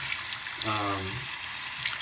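Cold tap water sprays onto a PC case dust screen in a brief rinsing burst, a close, steady hiss of running water with a short rising tonal whine from the stream on the mesh.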